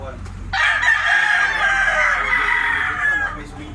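A bullstag rooster, a three-year-old Lemon 84 bloodline gamecock, crows once, loud and close, in a long ragged call over faint background noise.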